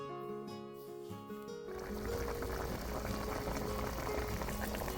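Neckbone meat simmers in a pan with a dense, crackling sizzle and bubbling that swells up after a quieter musical stretch, steady and close for the rest of the clip.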